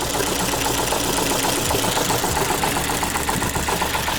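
A Ford Fiesta engine runs close and steady with misfires on cylinders 1 and 2, a rough idle with an uneven, stumbling pulse.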